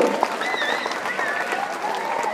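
An audience applauding at a school prize-giving ceremony, a dense steady round of clapping with a few wavering voices rising over it, moderately close and continuous throughout.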